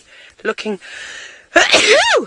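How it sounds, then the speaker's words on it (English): A single loud human sneeze bursts out close to the microphone on an early-morning safari drive, following a brief bit of speech. "That was a sneeze."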